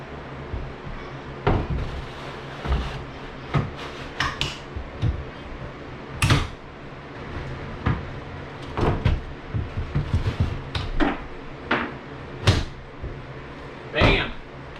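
Sliding drawers are fitted into Lowe's Shenandoah kitchen cabinets, with a series of sharp clacks, knocks and sliding thuds spaced irregularly over a steady room background, fairly close.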